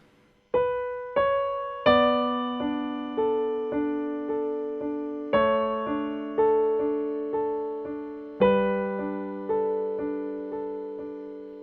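Piano playing with both hands, a low bass line under a higher melody, struck in a steady rhythm with sustained ringing tones, no talking.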